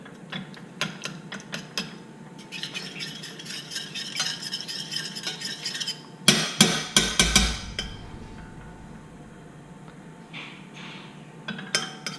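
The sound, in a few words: melting and stirring in a pan on the stove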